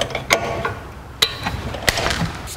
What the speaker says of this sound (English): Then we can get our wrench in here